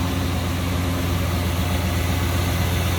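A 1972 Oldsmobile Cutlass Supreme convertible's Rocket 350 V8 idles smoothly under the open hood, a steady, even low rumble close by with no voices over it.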